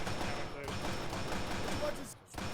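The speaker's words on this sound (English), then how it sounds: "This is where the shooting's coming from." Gunfire in the military game ArmA 3 during a room-clearing push, a dense rattle of shots and thumps running continuously under radio-style voices.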